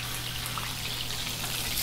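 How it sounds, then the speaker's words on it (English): Chicken frying in a restaurant kitchen, a steady broadband sizzle and crackle with a low constant hum underneath, close and continuous with no talk. "The chicken's still frying."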